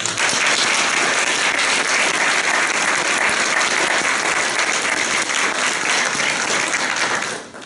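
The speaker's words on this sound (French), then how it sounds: "je vous invite aussi à donner une bonne main d'applaudissement aux personnes qui ont donné de leur temps" A crowd at a college graduation ceremony gives sustained, full applause, a thick steady roar of clapping that fades near the end.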